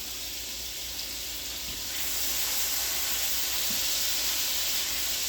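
Garlic and butter sizzle in a pan, a steady bright hissing fry that grows a bit louder partway through and holds constant, close up with no voices.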